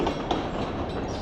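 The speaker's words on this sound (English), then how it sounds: "Wow, 2 trains in one quick run." Train rolling past on rails near a river walk and park, a steady, loud, dense rumble with faint clatter filling the whole short stretch.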